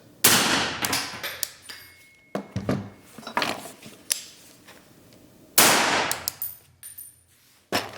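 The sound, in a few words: 308 rifle shot with Huxwrx Ventum suppressor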